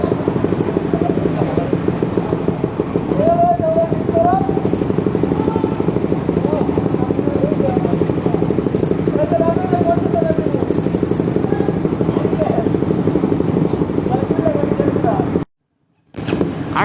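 Fourteen motorcycles ride together onto the Jamuna (Bangabandhu) bridge, giving a steady, loud engine drone with wind rush that holds throughout, briefly cutting out near the end, with voices faintly in the background.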